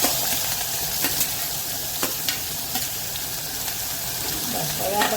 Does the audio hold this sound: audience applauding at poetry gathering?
no